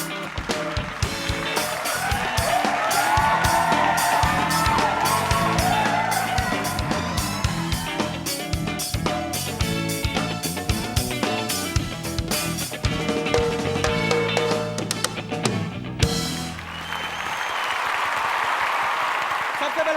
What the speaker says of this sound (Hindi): बुला रहे हैं हम आपकी भरपूर तालियों में जनाबे इसरार साहब को